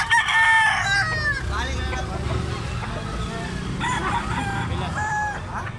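Several native roosters crow at a poultry market in Carbon, Cebu, where chickens, ducks and turkeys are sold. The crows are loud and close, repeating and overlapping, with clucking and a voice talking underneath.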